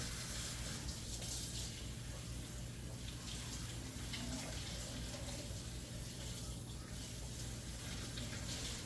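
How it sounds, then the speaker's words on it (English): Cold tap water runs steadily over raw chicken in a kitchen sink, a continuous close gushing and splashing that stays even throughout with no talk. "So we want to rub this down with some cold water."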